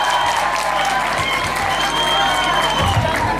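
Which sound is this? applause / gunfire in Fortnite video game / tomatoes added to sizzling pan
applause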